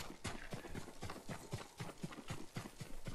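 Horse hooves clip-clop in the video game Ghost of Tsushima, a steady, even trotting rhythm of crisp footfalls that runs throughout at moderate loudness with no talk.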